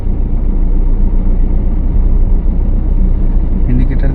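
A car's engine rumbles steadily and close as it pulls away once the brake is released in busy traffic during a driving lesson, with people talking over the low drone.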